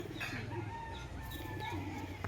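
A short burst of soft, throaty cooing from Giribaz pigeons, close by and continuous, with a slight background hum.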